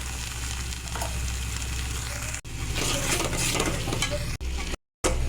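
Sour yogurt is stirred into a spice mix frying in a pan for egg curry, producing continuous sizzling with scraping stirs and short bursts of crackle, broken by a brief silence near the end.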